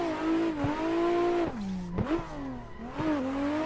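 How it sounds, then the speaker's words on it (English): Drifting car in Assetto Corsa, driven with wheel and pedals, its engine revving and swooping up and down as a clutch kick flicks it sideways, loud and continuous with no talk. "a little clutch kick to flick the car"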